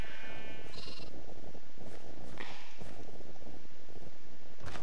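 A sheep bleats a couple of times in a modded Minecraft-style survival game, brief nasal calls over a constant busy game ambience, with no voices.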